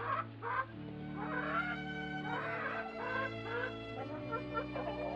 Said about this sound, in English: A hen is a farm animal.